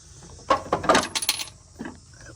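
Metal washer dropping after a pin is pulled from a 54-inch mower deck, a quick run of close metallic clinks and bounces settling into a few fainter rattles.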